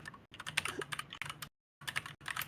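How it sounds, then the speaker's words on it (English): Rapid keyboard typing in bursts of clicking keys, fairly close, with a short pause midway and a steady low hum underneath. "I can hear the typing."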